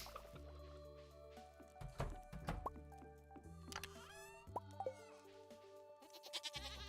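A Stardew Valley goat bleats once with a shaky, vibrating call midway through, surrounded by soft dripping and squishy game effects and gentle background music, all fairly quiet.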